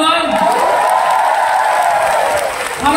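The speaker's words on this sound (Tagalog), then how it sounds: "palakpakan naman" A comedy show crowd breaks into steady, loud applause that holds for about three seconds before tapering, with a voice briefly cutting in near the end.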